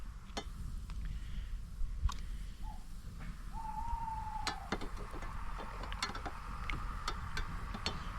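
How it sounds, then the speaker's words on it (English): A tawny owl hoots faintly in the distance during a summer wild-camping night, one drawn-out call rising above a quiet background scattered with light clicks and ticks. "We think we've just heard a tawny owl in the background."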